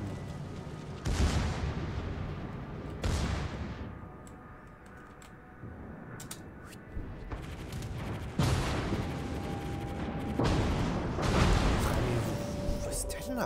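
Warship guns firing in World of Warships, heavy booming salvos at intervals with rumbling decay between them, while someone talks over the battle.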